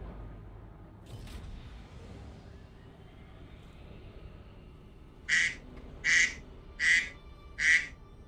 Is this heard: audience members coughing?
no